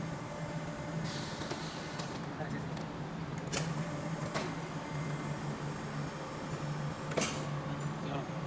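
A silicone heat transfer machine runs normally, giving a steady, even mechanical hum with a few sharp clicks and knocks scattered through it at moderate volume.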